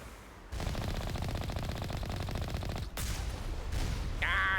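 Enemy gunfire in the video game Mass Effect rattles in a long sustained automatic burst, drops out briefly, then resumes in further rapid fire, loud and dense throughout.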